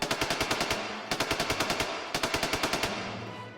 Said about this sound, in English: I ordered the Gatling to open fire on the hellspawn